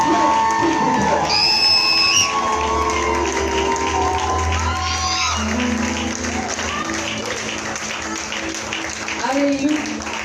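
A congregation at a French-language church conference, Mur de Jéricho, applauds and cheers loudly. Shouts and whistles rise over dense clapping, and voices carry through the sustained crowd noise.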